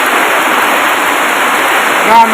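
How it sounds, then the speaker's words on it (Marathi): Dense, loud rush of heavy rain pouring down continuously, flooding houses, a thick broadband roar close by. "पाऊस किती जब्बर चालू झाला आहे"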